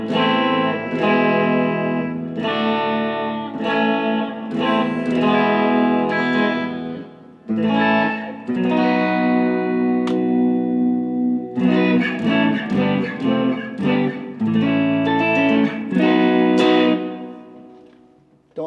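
Harley Benton TE-40 electric guitar with Roswell pickups through a Deluxe Reverb amp with reverb and delay added, a loud phrase of strummed chords and picked notes, with a brief pause midway and a ringing tail at the end.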